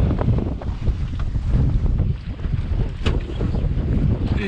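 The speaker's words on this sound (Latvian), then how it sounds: "Vējš baigais." Strong wind buffets the microphone on a small boat out on the water, a loud, continuous roaring rumble with waves splashing beneath it, no talking.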